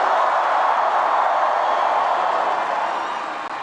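A large rally crowd in Chicago cheers and applauds in a steady, loud, dense roar of claps and shouts that fades slightly toward the end.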